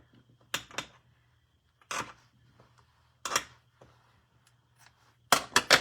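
Scissors snipping the tails of a ribbon bow, four or five short, crisp cuts spaced apart in a quiet room, close to the listener.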